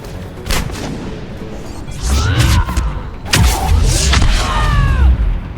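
Gunfire during a Mass Effect firefight, heard as scattered sharp shots and thuds, some in quick clusters, over steady game background noise.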